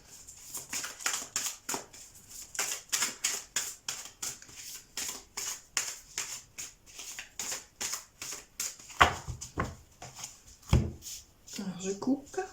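Tarot cards being shuffled by hand, a rapid run of crisp riffling flicks that repeats steadily and close by, ending with a few handling rustles.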